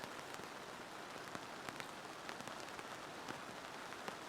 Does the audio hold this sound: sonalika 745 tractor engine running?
no